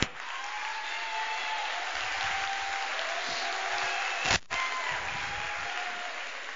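A steady wash of applause from the women in an audience at a charity variety show in Rionero, with a dense, even hiss of many hands clapping and one brief louder knock near the end.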